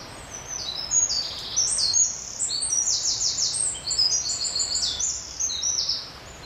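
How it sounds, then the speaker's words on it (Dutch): Several songbirds sing overlapping bright, high-pitched territorial phrases and chirps over a soft outdoor hush, the calls trading back and forth steadily. "Die vogels die zingen om hun territorium aan te geven."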